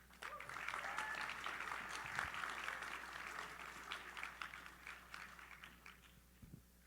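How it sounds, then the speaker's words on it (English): Applause from a conference audience at React Miami 2024, a steady wash of clapping that swells briefly and then thins out, with faint voices murmuring beneath it. "Let's give B. Dougie a round of applause."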